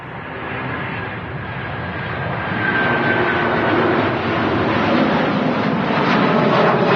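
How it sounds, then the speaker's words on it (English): A Virgin Atlantic Airbus A330 jet departs Manchester Airport with a loud, steady roar of jet engines that swells and grows stronger as it goes, with broadband rumble and no voices over it. "A Virgin Atlantic A330 next to depart."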